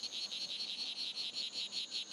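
A strawberry poison dart frog calls in a rapid, steady series of buzzy chirps repeating without pause, moderately near and alone with no voices.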